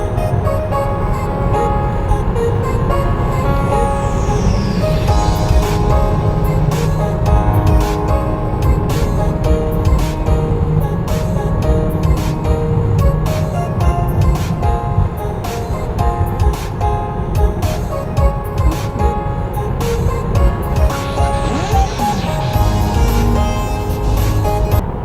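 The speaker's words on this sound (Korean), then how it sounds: "14개의 스피커에서 나오는 음악을 함께 들어보자고요" Music plays through the 14-speaker audio system of a Tesla Model 3 Long Range, loud and continuous, filling the cabin with a dense, full mix that never drops out.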